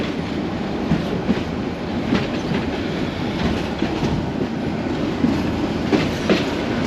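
A local train runs from Dhaka to Narayanganj with a steady, loud rumble inside the carriage and a regular clickety-clack of wheels on the rails, with no talk.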